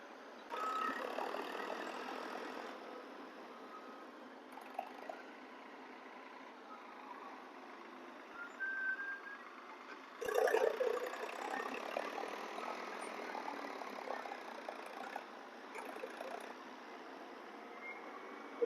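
A hydra crane and tractors work soil on a village plot, a moderate engine drone running throughout with a reversing beep and a few louder surges and clanks, fairly distant and without talk.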